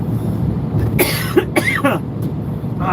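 A single cough rings out inside a truck cab against steady driving rumble, with a couple of short throaty bursts following close behind.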